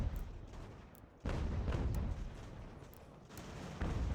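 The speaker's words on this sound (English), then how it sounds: "That cannon can really shoot over there." Cannon fire in Ultimate General: American Revolution, a 1777 campaign battle storming forts: continuous rumbling, booming gunfire with a few sharper blasts rising out of a dense battle din, and no voices.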